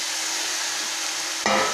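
Marinated fish, salted and rubbed with ajwain, drops into hot masala and ghee; a steady frying hiss gives way to a sudden louder sizzle near the end, close and without any talking.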